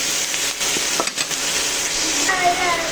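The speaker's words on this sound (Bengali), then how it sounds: "কাঁচামরিচ পেঁয়াজ রসুন হলুদ মরিচ দিয়ে একটু সরষের তেল দিয়ে রান্নাটা করে নিচ্ছি" Eggplant cooks in mustard oil with green chili, onion, garlic, turmeric and chili, giving a steady close sizzle and hiss with a few light clinks of stirring.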